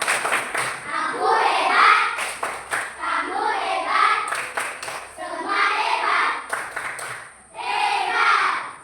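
A classroom of children claps a rhythmic chant-style applause led by the teacher, several patterned bursts of clapping mixed with young voices chanting along over about nine seconds.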